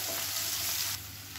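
Chopped onions with a little garlic sauté in hot oil in a pan, giving a loud, steady crackling sizzle that drops slightly in level partway through, with no talk.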